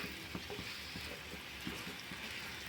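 Green banana and egg fry in a pan with a little oil, a steady soft sizzle under light, irregular scraping and tapping of a spoon stirring the mixture.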